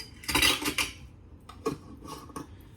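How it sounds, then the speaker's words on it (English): A utensil scrapes and clinks against a bowl while yeast is stirred into liquid, giving a few quick close scraping strokes followed by softer taps. "So we're just going to stir this in there till it dissolves"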